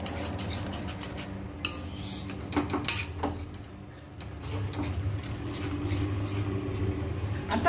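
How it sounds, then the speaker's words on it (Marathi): Milk and milk powder stirred continuously in a pan while making pedha, with a low steady scraping and swirling texture broken by a few light clicks of the spoon against the pan. "मिल्क पावडर आणि दूध आपण सतत हलवत राहायला पाहिजे"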